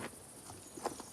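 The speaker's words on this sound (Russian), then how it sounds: "Вместо поезда дождался лошадь." Horse hooves clip-clop briefly on a road in Mexico, a few soft, close strikes standing alone without speech.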